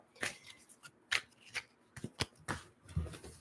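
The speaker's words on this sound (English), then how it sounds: "The cards don't really want to shuffle today." Close, crisp riffling and slapping of tarot cards being shuffled in several uneven bursts, quiet and without talk.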